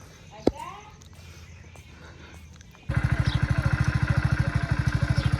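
Motorcycle engine on a bike trip to Ranuja, starting partway through as a loud, steady rapid throb that continues to the end, after a stretch of quieter background noise and voices.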